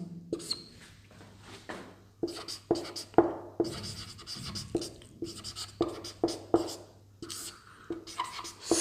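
Chalk or marker scratches across a board during a maths lesson on averages, coming as short bursts of scraping strokes with brief pauses between them, close and fairly clear, with no talk over it.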